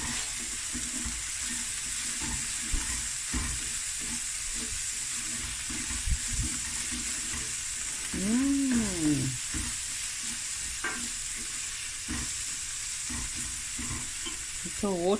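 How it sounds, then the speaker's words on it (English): Sugar bean stew frying in a pot while being stirred, a steady sizzle with scraping spoon strokes against the pot, close and continuous. "Give it a stir."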